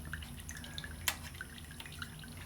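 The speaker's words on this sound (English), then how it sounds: "to drive the water pump, just to prime it" Faint water drips from a water pump being primed on a homemade thermoelectric generator rig. One clear drop lands midway over a quiet background with a soft low hum.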